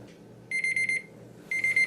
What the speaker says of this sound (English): You set a timer for 18 minutes, and they should be done when that timer's done.